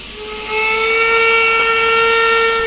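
A new single chime whistle on a steam 4-6-0 locomotive in Trainz Railroad Simulator, a loud, sustained, hissing tonal blast that begins softly and swells to a steady held note.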